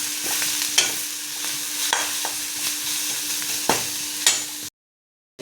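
Fish masala frying in a pan, with a steady hiss of sizzling oil and occasional sharp spatula scrapes nearby, stopping abruptly near the end before a brief final knock.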